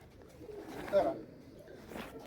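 A pigeon gives a short, soft coo, faint and close in a quiet setting, with one louder swell near the middle and a weaker murmur after it.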